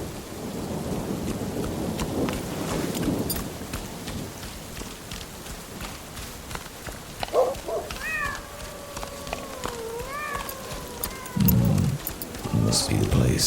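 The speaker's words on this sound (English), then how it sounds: "The rain's flooding the road." Rain pours onto a flooding road with a steady hiss and low rolling thunder, while a cat meows several times close by and a voice talks over the storm.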